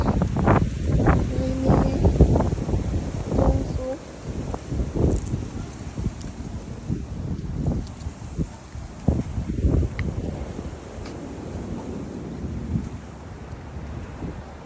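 Strong gusty storm wind in the United States buffets the microphone in heavy low roaring bursts, steady and loud throughout, with no voices.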